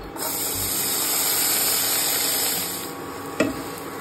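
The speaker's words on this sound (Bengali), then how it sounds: "বাটার তো মেল্ট হয়ে গেছে, সো অ্যাড করে দেব এই যে রসুন কুচি।" Chopped garlic hits melted butter in a pan for butter garlic pasta, giving a steady, bright sizzle that holds for a few seconds and then softens, with a short clatter near the end.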